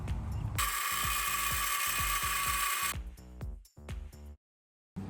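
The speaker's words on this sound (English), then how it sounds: "I'm just using a battery-powered circular saw." A battery-powered circular saw cuts during a DIY paddleboard catamaran build. A fairly quiet, high whine lasts about two seconds over steady low thumps, then spins down and stops.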